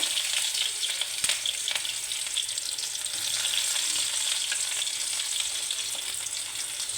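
Onions frying in oil in a wok give a steady, close crackling sizzle throughout, with a few brief clinks and stirring touches and no voices.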